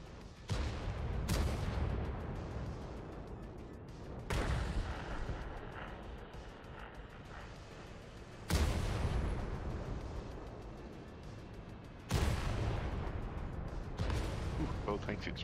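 Tank cannons fire in World of Tanks, a competitive tournament match, each shot a loud sharp blast followed by a rumbling decay, four or five spaced seconds apart, while a commentator speaks over them.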